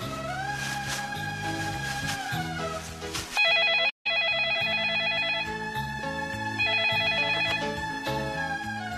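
A ringtone plays as a melodic electronic phone ring, loud and close, repeating its pattern with a brief cut of silence partway through.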